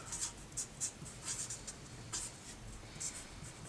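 Marker or chalk scratching across a board in short, repeated strokes, fairly faint and close, with pauses between each squeaky swipe during a lesson on solar panels.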